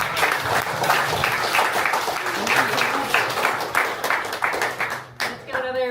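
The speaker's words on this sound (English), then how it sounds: "Let's give another round of applause for all of our speakers today." A crowd applauds the speakers at the end of an AI-focused talk, brisk dense clapping loud and close, easing slightly toward the close as a voice begins speaking.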